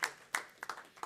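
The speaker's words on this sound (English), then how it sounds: "just a really quick round of applause for Pallavi and her wonderful team" Sparse, scattered handclaps from a small audience at an expert forum, a brief thin round of individual claps rather than full applause, fairly quiet and close.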